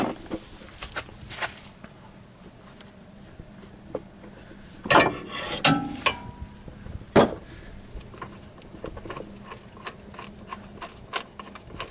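Ratchet setup working loose the timing belt pulley bolt on a 1994–1997 Honda Accord, a series of irregular clicks and grinding scrapes with a few sharper bursts, close and fairly quiet, no talking.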